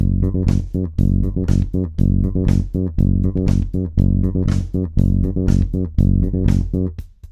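Funk bass guitar plays slow, steady repeated notes locked to a drum beat. Close, punchy and continuous, with regular percussive hits over the whole stretch and no voices.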